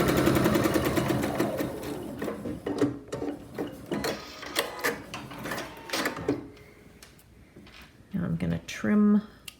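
A domestic sewing machine stitching fabric for a face mask, running in bursts of rapid mechanical whirring with pauses and handling noises between runs; someone talks over parts of it.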